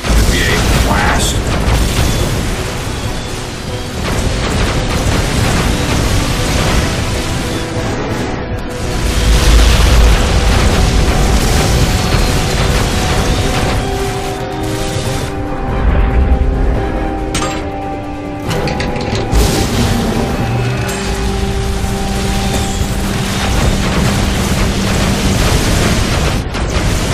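A power generator explodes in the Iron Man video game, a long, loud roar of booming rumble and mechanical clatter, with heavier low thuds surging around the middle.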